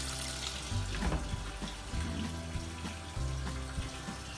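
Water splashing steadily into a container while doing laundry by hand, a continuous rushing gurgle close by with no talk.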